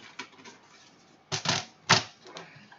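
Scissors snip through a file folder being cut in half for a craft page, a few short, crisp cuts in quick bursts, close by and fairly quiet.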